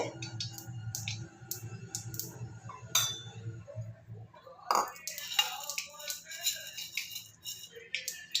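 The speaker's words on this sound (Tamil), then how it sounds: "கடுகு வெடிக்கிறது." Mustard seeds splutter in hot oil with sharp crackling pops and clinks bursting irregularly from a pan, close by, with some kitchen clatter around them.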